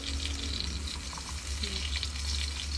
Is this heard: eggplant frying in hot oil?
yes